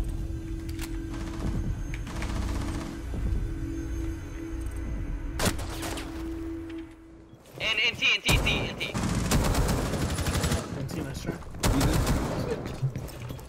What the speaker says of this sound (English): Wow, nice shot, nice shot, Skittlz.